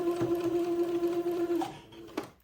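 A sewing machine straight-stitches a ribbon casing on a baby's wedding garment. It gives a steady, close whirring hum, then stops short with a brief clack near the end.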